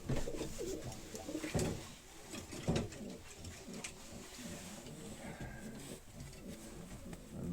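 A racing pigeon coos softly in the loft at the end of the season, a few low murmuring calls against a shuffling, rustling background, with occasional sharper knocks.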